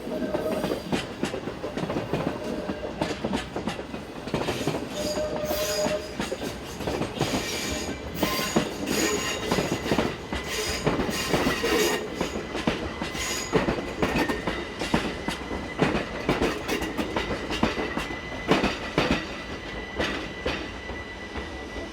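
Swiss electric train unit pulling into a station, with clattering wheels over rail joints, brake and wheel squeals, and rolling rumble that stays fairly loud throughout, no voices.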